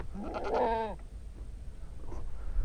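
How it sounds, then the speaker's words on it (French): Goats bleat on a farm field where horses are also kept, a loud harmonic bleat lasting about a second, followed by fainter calls in the background over low outdoor rumble. "C'est les chèvres."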